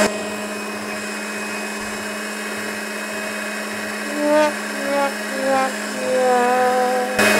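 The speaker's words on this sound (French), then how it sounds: "Il faut peut-être initialiser la pompe là parce qu'elle n'a rien à aspirer." Small electric pump running dry with nothing to draw, a steady high motor whine with a constant hum, while someone speaks intermittently over it near the end.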